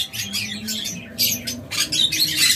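Budgerigars in a breeding setup, sitting on eggs, give short chirpy squawks in quick bursts, fairly close and overlapping, with a low hum underneath.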